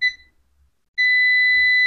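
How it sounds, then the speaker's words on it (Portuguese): A multimeter's continuity tester gives two clear high-pitched beeps, a short one then a sustained tone after a brief silence, while checking the coil of a chopper transformer. "Ele está me dando um bip e está me dando a resistência ali"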